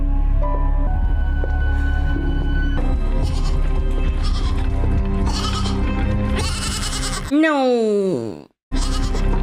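A goat in a Severance episode bleats in a series of drawn-out, wavering cries over a steady background hum, loud and close, with a brief drop to silence before the scene resumes.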